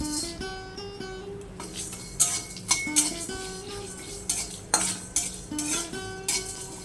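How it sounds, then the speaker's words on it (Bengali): Spices fry in a hot karahi for a pickle while a metal spoon scrapes and clinks against the pan in irregular knocks over a faint sizzle. "মশলাটা ত্রিশ সেকেন্ড মতো ভেজে নিয়েছি"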